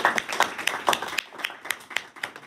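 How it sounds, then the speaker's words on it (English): High school students clap for a guest rheumatologist, a round of applause with uneven, overlapping claps that thin out toward the end, near and moderately loud. "Everyone, give them a round of applause,"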